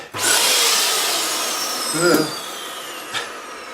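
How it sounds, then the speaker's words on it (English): A steady broadband whoosh of a Kirby vacuum cleaner runs continuously, with a couple of brief knocks and bumps partway through. "I'll start to vacuum the suite off"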